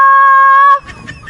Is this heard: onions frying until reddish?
no